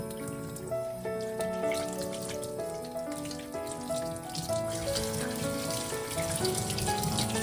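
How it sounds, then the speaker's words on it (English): Hands being washed under a running kitchen tap after handling lemon juice and meat, a steady loud splash and trickle of water into the sink with soft dripping, no talking. "So now I'm going to go quickly wash my hands after dealing with the lemon juice and putting it in the meat."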